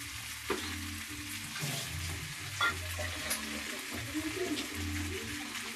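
Boiled moong dal goes into a pan of frying fish heads, raising a steady sizzle with stirring scrapes, and a voice talks over the cooking.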